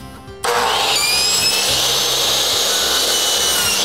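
A power saw spins up abruptly and then whines at a steady high pitch as it cuts an angle in crown molding, loud and close, with no talking.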